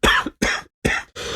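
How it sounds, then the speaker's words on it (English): A man who is under the weather coughs four times in quick succession, close and loud, each cough a short harsh burst separated by brief silences. "That cough was entirely unrelated."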